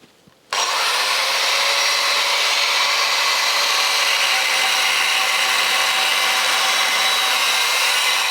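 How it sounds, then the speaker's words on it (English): An angle grinder cuts off a thin metal piece on a Jaguar XJ6 during gearbox removal, starting abruptly after a quiet moment and then holding a loud, steady, high-pitched whine to the end. "I'm going to grind it off"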